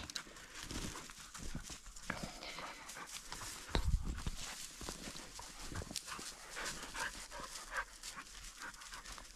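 Hunting dog panting close by during a roe deer hunt, with steady breathy rhythm, rustling movement and a brief louder thump midway, no talk.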